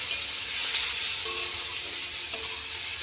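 Crushed garlic lands in a frying pan with dhenki greens and sizzles in a loud, constant hiss, with a few faint stirring touches.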